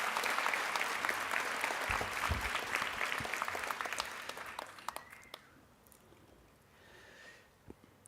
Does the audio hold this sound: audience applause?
yes